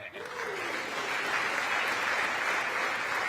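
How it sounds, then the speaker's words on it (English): Members of the US Congress applaud Indian Prime Minister Modi during his address in the chamber, a broad, sustained wave of clapping that swells in and holds steady, with some voices faintly mixed in. "There were a total of 15 standing ovations, 79 rounds of applause."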